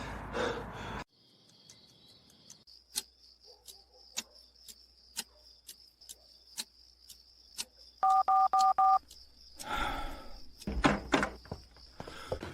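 A telephone is dialed, with a quick burst of touch-tone beeps standing out amid faint ticking and a steady high insect-like whine, followed by brief louder rustling sounds.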